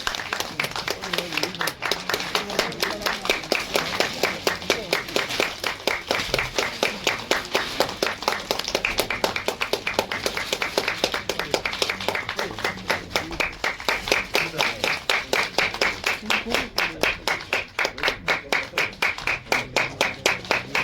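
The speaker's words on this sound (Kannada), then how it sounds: "ದಯವಿಟ್ಟು ಜೋರಾಗಿ ಚಪ್ಪಾಳೆ ಬರಲಿ" An audience at a song release ceremony claps steadily for about twenty seconds, a dense, even patter of many hands close by, with faint voices underneath.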